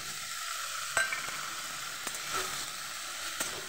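Soaked chickpeas go into a pan with turmeric, cumin and chili powders for a pumpkin curry and fry with a soft, steady sizzle. A few sharp clinks and scrapes of stirring break through.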